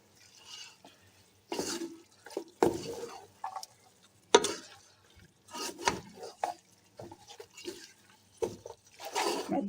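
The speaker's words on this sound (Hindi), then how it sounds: "अब इसे हम अच्छे से मिक्स कर देंगे।" Beef stew with whole chillies and spices is stirred in a pot: intermittent wet scraping and sloshing strokes in irregular bursts, fairly close but moderately quiet, with no talk over them.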